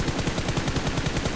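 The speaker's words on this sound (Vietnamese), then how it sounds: "Và em sẽ test thử này, bắn thử này." Rapid automatic gunfire from a test-fire in PUBG Mobile, a steady burst of evenly spaced shots repeating about every tenth of a second, close and sustained through the whole stretch with no talking.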